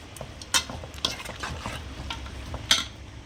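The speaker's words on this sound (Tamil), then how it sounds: "கறியை போட்டு நல்லா கலைக்கிறீங்க" Chicken for a chicken curry being stirred in a pot, giving a few scraping clacks of a spoon against the metal over a soft, steady sizzle. Nobody speaks.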